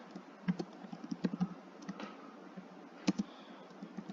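Quiet, irregular keyboard typing on a computer, with scattered single key taps and a few short clusters of quick clicks, heard close up in a calm room.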